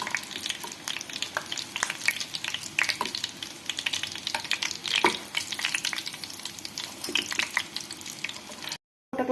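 Fish cutlets fry in a hot pan with a steady, dense sizzle and crackle close by, bright spattering pops scattered throughout, no voices, and a brief cut to silence near the end.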